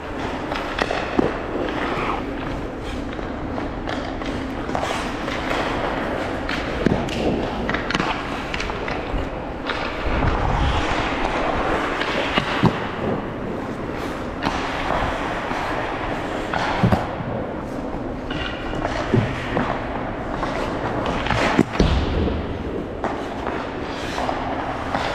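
Hockey pucks chipped off the side wall of an indoor rink and shot from the wing, sharp cracks and clacks of sticks and pucks ringing out over a steady arena hum, with skates scraping throughout.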